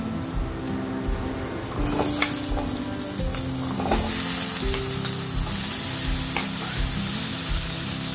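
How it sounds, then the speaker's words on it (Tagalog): Maya-maya fish sizzles and fries steadily in a pan as carrots are tossed in, with a loud continuous crackle, a few stirring clatters, and no talking. "Pagka nag-golden brown, ay ilagay ko na ang carrots."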